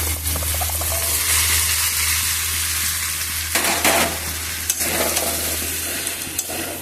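Kidney beans tipped into hot spiced oil for a vegetarian rajma, setting off a loud, steady sizzle and frying hiss, with stirring scrapes and a few sharp clatters in the pan.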